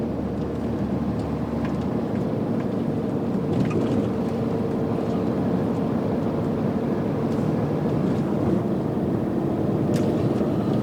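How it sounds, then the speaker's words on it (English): A truck engine holds a gear at high revs, heard as a steady, even drone from inside the cab with a broad rumble and no clear change in pitch. "I don't know if you heard the engine revs there, but it was holding on to the gear, and the revs were quite high."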